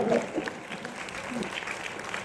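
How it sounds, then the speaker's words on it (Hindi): Light, scattered clapping from a few audience members at a Hindi kavi sammelan poetry recital held at a camp, faint and thin, with a voice talking over it. "ये दो ताली बजा रहे हैं"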